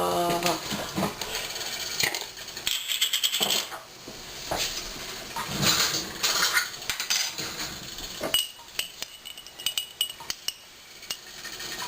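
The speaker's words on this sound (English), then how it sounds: "And I always kind of stir." Pinto beans are stirred in a metal cooking pot, with repeated clinks and scrapes of a utensil against the pot, loud and close, while a person talks.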